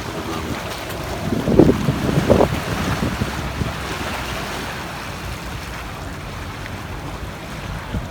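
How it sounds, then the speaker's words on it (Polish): A large Gozo ferry pulls away from the harbour in Malta, heard as a steady wash of wind and water with a brief swell of engine and wave noise early on, slightly distant under gusty microphone wind. "Ogromna goza właśnie tam odpływa, więc my czekamy na następny."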